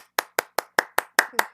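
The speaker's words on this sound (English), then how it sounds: "Clap it up, y'all." Hands clap eight times in a quick, even rhythm, close and crisp, with nothing else heard.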